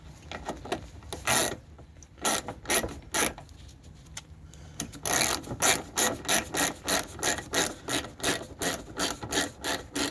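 Ratchet wrench tightening bolts on underbody protection panels of a Ford Focus Mk1, rapid rhythmic clicking in repeated strokes, close and loud, with no talking.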